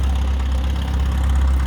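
A vintage cultivator with its engine mounted at the rear idles steadily at an antique tractor show, a low, even chugging rumble heard up close.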